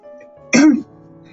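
A single short, harsh cough or throat-clear bursts out close and loud over a quiet background of faint steady tones.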